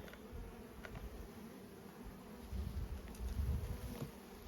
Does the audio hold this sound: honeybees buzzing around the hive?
yes